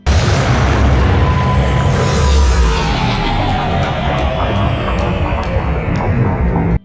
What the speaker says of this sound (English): The warden attacks.